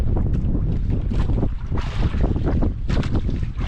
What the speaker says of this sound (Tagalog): Narinig nyo naman siguro yung ihip ng hangin mga idol.